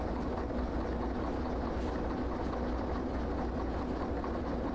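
Train cars being pushed into a coupling on a siding in the railway game Derail Valley, heard as a steady, dense rolling rumble of rail wagons that continues evenly throughout.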